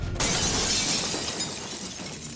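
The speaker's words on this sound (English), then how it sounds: "It was a super loud noise followed by the noise of breaking glass." Glass shatters loudly nearby in a sudden crash, with a scattering rush of breaking shards that slowly trails off.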